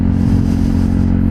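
A motorcycle rides through city traffic with a steady, close engine drone and road rumble, loud and continuous for a brief moment.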